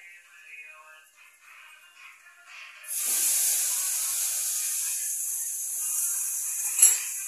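Food sizzling in a frying pan before tomato goes in, a quiet start giving way to a loud, steady high hiss of frying that holds for several seconds, with a brief sharper crackle near the end; no talk.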